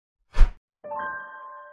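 A notification chime sounds alone: a short soft swoosh, a brief gap, then a clear bell tone with steady ringing overtones that fades out gently.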